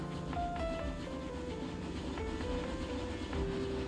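A train runs in the Railroad Corporation video game, giving a steady rumble with rhythmic clickety-clack and brief tonal squeals, moderately loud and with no speech.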